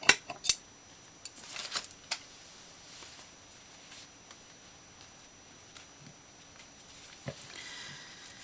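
Scissors snip a fabric-scrap tassel in a handful of sharp, close cuts early on, followed by quieter handling rustles and an occasional faint snip.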